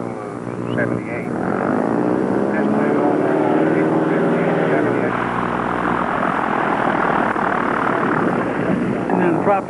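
A T-18 homebuilt airplane with a 150-horsepower Lycoming O-320 engine and a metal propeller drones steadily and loudly at a fly-in, with a constant buzzing roar that holds throughout under people talking.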